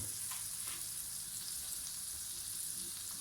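Bread rolls fry in butter in a pan over medium heat, giving a steady, continuous sizzle with a constant hiss and no voices, close and fairly loud throughout.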